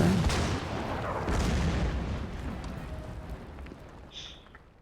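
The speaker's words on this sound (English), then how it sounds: "Have the artillery fire." Artillery firing in the wargame Order of Battle during a WWII drive on Stalingrad: a couple of heavy booms with rumbling tails, fading and growing fainter toward the end, no talking.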